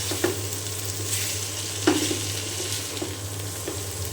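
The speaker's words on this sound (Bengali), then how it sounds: "এখানে তো আমার এই যে আলু ভাজিটা হচ্ছে।" Potatoes fry for a Bengali dal-aloo bhaji in a pan with a steady sizzle, punctuated by a few soft scraping stirs, close and alone.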